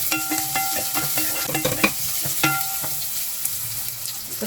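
Ginger, garlic and onion frying in hot oil, with a steady close sizzle and repeated scraping and tapping from stirring, no voices.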